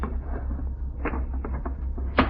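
A drawer opens in a ship's cabin as a radio drama sound effect, a few soft wooden scrapes and knocks over a low hum, ending in one brief louder clack.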